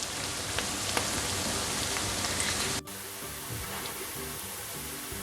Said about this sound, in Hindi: प्याज को फ्राई करेंगे यहाँ तक कि लाइट ब्राउन हो जाए।